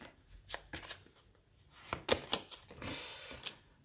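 Tarot cards shuffled and drawn at a reading, with soft papery riffles, light slaps and taps in an uneven rhythm, close and quiet, with no talking.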